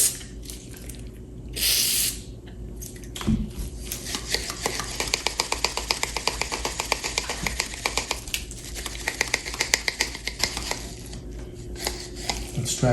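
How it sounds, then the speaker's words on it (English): Pliers being worked open and shut after a rinse with WD-40 spray: a short hiss near the start, then a long run of fast, light, evenly spaced metallic clicks, close and fairly quiet. "Let's rinse it out more with the WD-40."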